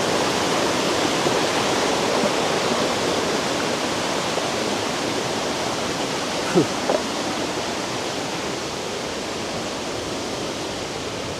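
Fast, heavy water of a mountain stream near Puncak Ciguntur in Sukamakmur, Jonggol, a dense, continuous roar that stays loud and even throughout, with no voices.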